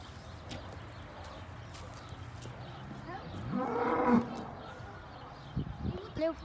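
Cows mooing inside a barn: one drawn-out, fairly close moo swells and fades mid-way, over steady low barn ambience with a few faint shuffles and knocks afterward.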